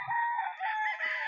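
A rooster at a gamefowl selection lets out a single loud, close crow that holds for over a second.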